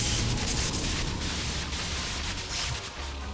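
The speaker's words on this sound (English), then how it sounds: "White noise on the screen will signal the start of battle" Broadband static hiss in the .hack//G.U. video game, a steady loud wash of white noise on screen that marks the start of a battle, lasting throughout with no voices.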